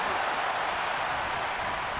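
Steady, dense crowd roar fills a wrestling arena during a tag-team match in WWE 2K25, a continuous wash of cheering with faint clapping mixed in, loud and unbroken throughout.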